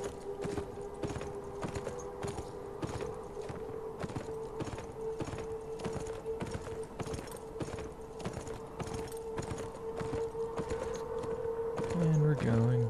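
Horse hooves clip-clopping at a steady trotting rhythm while riding in the video game Beyond: Two Souls, with a sustained tonal drone underneath and a brief low sound near the end.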